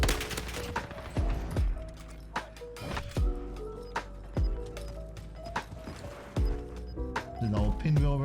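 Gunfire in the Call of Duty Warzone video game, sharp loud shots fired singly and in quick pairs at irregular intervals, each followed by a booming decay, with faint ringing tones in between.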